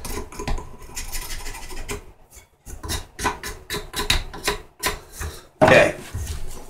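Steady scraping and rasping on an old wooden hand drill as a label is worked off, a rough back-and-forth rhythm close up with a brief pause and a louder burst near the end.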